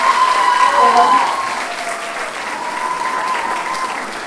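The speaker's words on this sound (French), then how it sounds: "on peut applaudir encore une fois très très fort la fédération" A theatre audience applauds after a stage performance, dense sustained clapping that swells at first and then settles into a steady, slightly softer ovation.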